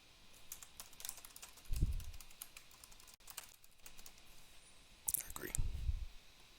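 Fingers type a password on a computer keyboard in a steady patter of close, light key clicks, interrupted by a couple of low breathy bumps and soft murmured speech.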